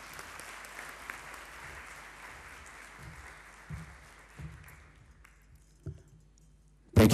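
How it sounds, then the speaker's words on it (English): Applause at a strategic plan launch ceremony fades out gradually, leaving a few soft thumps, with a sudden loud burst at the very end. "one more round of applause, please, to our chief guest"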